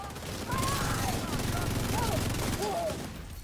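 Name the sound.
gunfire in a video game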